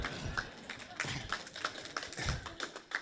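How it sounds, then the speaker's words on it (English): Scattered claps from a small audience at a talk on poverty and economic insecurity in medicine, sharp and uneven, repeating through a low hum of room noise. "you can clap too"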